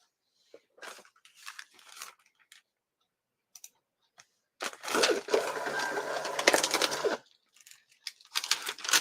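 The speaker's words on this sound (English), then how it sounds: "Why do you sound like you're getting all wrinkled back there" Dry paper shipping labels crinkling and crackling in short bursts, then a sustained rustling stretch of a few seconds, close by with quiet gaps between.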